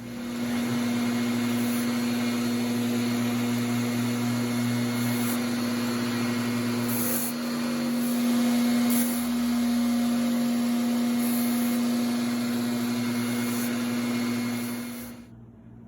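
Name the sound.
small electric hand sander smoothing an Old Hickory knife blade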